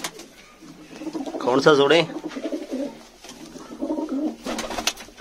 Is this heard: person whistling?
no